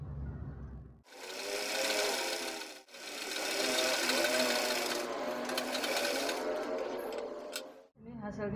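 A sewing machine stitches the side seam of a sleeve on a child's nightdress, using a French seam: loud, steady close-up whirring runs broken by two short pauses, then stopping near the end.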